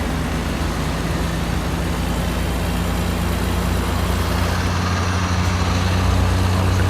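A heavy truck engine drones at a steady low pitch with road and traffic noise, rain or wet snow hiss over it, in the American Truck Simulator game on a drive from Labrador City to Ottawa.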